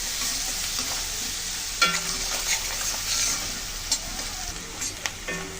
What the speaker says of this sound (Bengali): পেঁয়াজগুলো একটু লালচে করে ভেজে নেব